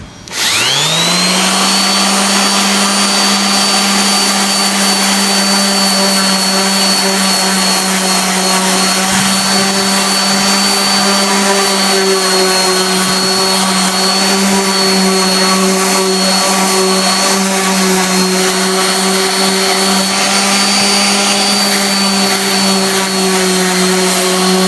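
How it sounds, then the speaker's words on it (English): Power sander working over a rusted exterior metal door, a loud, continuous high whine with a steady grinding tone throughout, no talk. "I'm kind of excited to see what happens when we sand this down."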